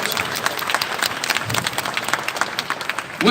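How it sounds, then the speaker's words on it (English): An audience at a university book launch event gives a round of applause, brisk, dense clapping throughout, with a sharper sound cutting in at the very end. "Let's give a round of applause to everybody who has joined us in this big event"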